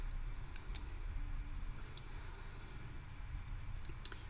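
Several sharp, sparse clicks of wire cutters snipping sprigs for Christmas decorations, close and distinct against a quiet room hum.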